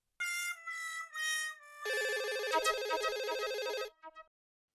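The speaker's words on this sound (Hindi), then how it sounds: "जरा फोन लो ना प्लीज।" An electronic telephone ringtone plays in a domestic comedy scene: a melodic chime, then a denser, louder ringing pattern that carries on for about two seconds before stopping, heard alone with no talking.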